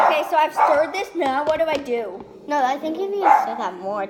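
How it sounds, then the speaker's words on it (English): A household dog barks and yips intermittently in the background while two people talk over it nearby. "That's my dog. Ignore him right now."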